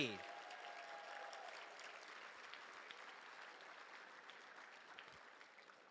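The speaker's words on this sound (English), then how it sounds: "Let's give them all a round of applause for their service and dedication to ASP." Sustained applause from a gala audience honoring photographers, dense and steady for several seconds and fading slightly toward the end, heard at a moderate distance in a large room.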